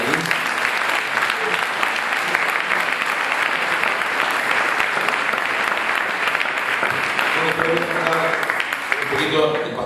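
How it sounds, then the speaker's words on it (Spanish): An audience at a church service claps to welcome a pastor, a dense, loud burst of applause sustained throughout, with a voice speaking over it near the end. "lo recibimos con un aplauso"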